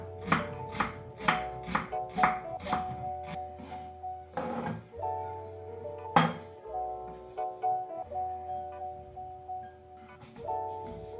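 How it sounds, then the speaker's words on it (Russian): A knife chops an onion into small dice on a cutting board in a quick run of crisp taps, then slower scattered cuts, with soft ringing in the background. "Одну головку репчатого лука нарезать мелким кубиком."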